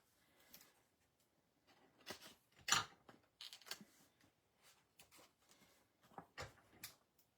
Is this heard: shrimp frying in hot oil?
no